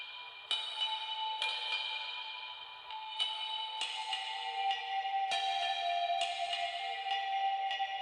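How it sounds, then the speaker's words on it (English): Park chimes processed with a lush reverb effect ring out as a series of bright struck tones roughly every second, each decaying into a sustained shimmering wash, steady and alone without voices. "First was the chimes."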